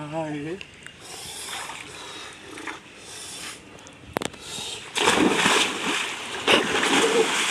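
Hands are washed with a rush of splashing, spattering water that swells loud and close in the second half, and voices can be heard talking alongside it.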